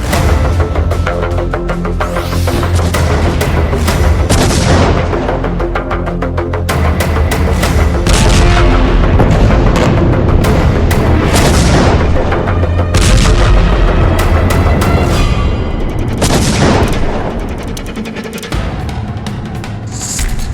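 Artillery fire and bombardment in northern Gaza during tank operations, captured as loud repeated booms and blasts in dense irregular succession over a constant rumble, with no voices.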